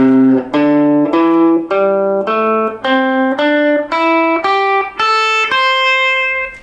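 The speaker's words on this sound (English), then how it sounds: "Okay, so that's the blues scale." An electric guitar picks out the blues scale one note at a time in a steady rising run of about a dozen plucked notes, each ringing briefly before the next, played alone and up close.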